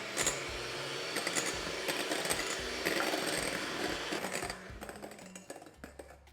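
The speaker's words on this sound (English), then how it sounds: "And I start whipping." An electric whisk whips egg whites with sugar for a raspberry soufflé, giving a steady close whirring buzz with faint clinks against the bowl before it trails off near the end.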